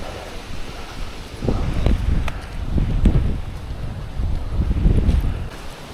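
Gusty wind blows through trees at High Cliff State Park on a fall day, the trees blocking much of it: a steady low rumble that swells and eases in waves, with a faint rustle of leaves.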